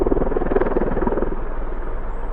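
Loud, steady rotor thrum of a V-22 Osprey tiltrotor aircraft flying the circuit at RAF Mildenhall, a continuous deep pulsing roar close by with no talk.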